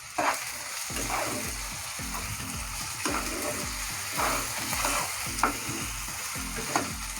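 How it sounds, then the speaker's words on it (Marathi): Finely chopped tomatoes sautéing in a pan for a beans masala, with a continuous close sizzle and repeated rhythmic stirring scrapes about once a second, no voices. "याच्यामध्ये 2 बारीक चिरलेले टोमॅटो टाकायचे। हे थोडंसं परतून घ्यायचं आपल्याला"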